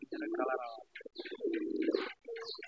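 A native pigeon coos softly and nearby in a few rounded, throaty bursts with brief pauses between them, faint and unaccompanied by talk.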